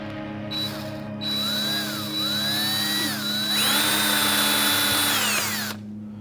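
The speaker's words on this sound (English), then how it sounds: "Then we're going to try to drill a hole through this." A power drill bores a hole through a hard model part, whining steadily with pitch rising and falling as the bit bites and stalls, a close continuous mechanical whir that stops abruptly at the end.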